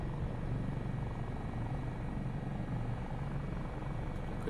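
A Dauphin helicopter flies in Microsoft Flight Simulator with a steady, continuous rotor and turbine drone. The sound is fairly close and even throughout, with no talk.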